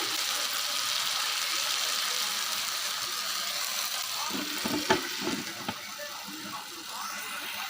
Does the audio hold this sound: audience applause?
no